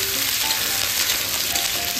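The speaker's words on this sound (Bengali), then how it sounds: "সব আনাজগুলো একটু ভালো করে তেলের মধ্যে নাড়াচাড়া করে নেব" Pointed gourd, eggplant and potato pieces stir-fry in oil, giving a bright, hissing sizzle that stays loud and steady throughout, close up with nobody talking.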